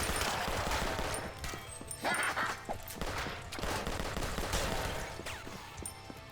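Dense rapid gunfire from the video game Rise of the Gorecats, a loud sustained stream of bursts with sharp shots throughout and a voice talking faintly underneath.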